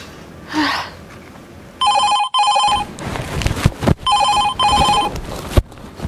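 An outgoing call rings with two bursts of electronic telephone ringing, each a steady trilling tone of about a second, close and loud over background noise and rustling.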